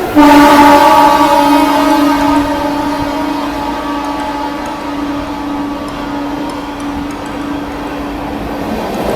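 The Rewa Express overtakes the Farakka Express on a loop line at Khurja Junction in India. A loud, sustained train horn blares close by, fading slightly over nine seconds above steady rail rumble.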